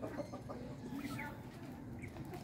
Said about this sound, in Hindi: ये हमारा जो है ना वाइट मुर्गा है बॉस का, बड़ा ही प्यारा मुर्गा है